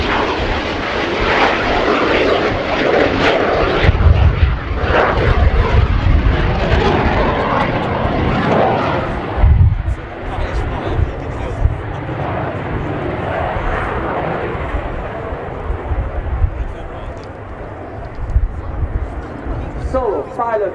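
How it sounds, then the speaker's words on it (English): An Italian Air Force Frecce Tricolori MB-339 jet flies a solo aerobatic display at RIAT airshow, its engine roaring loud and shifting as it passes and climbs, under continuous announcer commentary over the public address. "Ladies and gentlemen, this is the spectacular, crazy flight."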